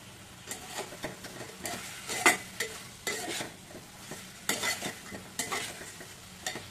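Chicken wings frying in hot oil in a home kitchen, a steady sizzle broken by repeated stirring scrapes and clinks of a utensil against the pan, fairly close and moderately loud.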